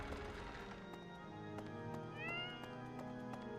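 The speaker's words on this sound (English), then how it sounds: "Meow." A cat meows once in the Fire Emblem: Three Houses video game, a brief rising cry over steady game music and light tapping.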